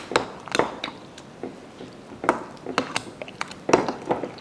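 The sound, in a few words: mixing corn souffle ingredients with a spoon in a bowl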